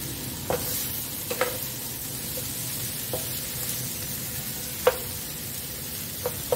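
Food fries in a pan with a quiet, even sizzle while a spatula stirs it, making several sharp scraping clicks at irregular intervals, close and without talk.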